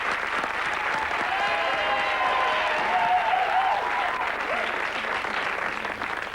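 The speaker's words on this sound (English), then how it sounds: "Give her a round of applause." Steady studio audience applause on a television quiz show, dense and continuous clapping held at an even level throughout, with a faint voice under it.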